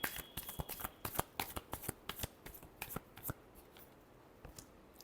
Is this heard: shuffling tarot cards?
yes